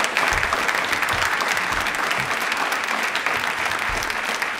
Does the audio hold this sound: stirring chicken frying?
no